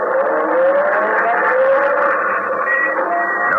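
A car engine in an old-time radio detective drama starts and pulls away, a loud steady drone whose pitch climbs as it accelerates, filling the whole passage without speech.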